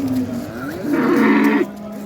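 At a cattle market in Baliqchi, a pregnant cow lets out a close, loud moo that rises and swells into a strained, roaring middle before cutting off, leaving low background murmur.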